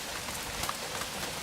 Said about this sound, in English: Oh no, it's raining again.